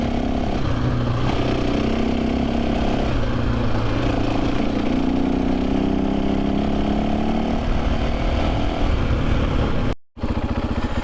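A Husqvarna FE501s motorcycle engine fitted with a Rekluse clutch runs steadily and close by, its throttle rising and easing in a continuous drone that cuts out briefly near the end.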